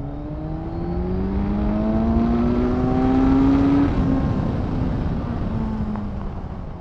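A 2018 Kawasaki Z1000SX motorcycle engine revs up, its pitch climbing smoothly through the gears as it grows louder, then eases off slightly toward the end, with a steady whirring drone and no voices.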